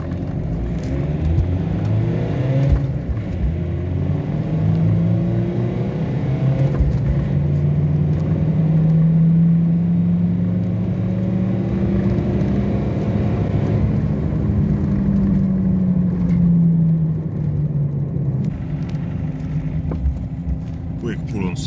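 A BMW E46 320d diesel pulls from a soft launch through second gear on a slight uphill. Its engine note climbs steadily and loudly, then eases, with a voice talking over it.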